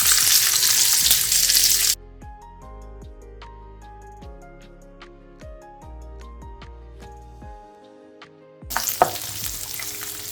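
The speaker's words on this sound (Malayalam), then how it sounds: "ക്യാപ്സിക്കം ഉള്ളിയിട്ട് ഒന്ന് വാട്ടിയെടുക്കാം." Capsicum and onion sauté in a pan for kadai paneer; a bright, dense sizzle is heard at the start and again at the end, with instrumental music filling the stretch in between.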